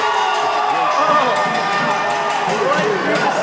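Spectators at a goalball world championship match between Portugal and Australia cheer a Portugal goal, a sustained broad roar from a crowd in an indoor hall, with a commentator talking over it.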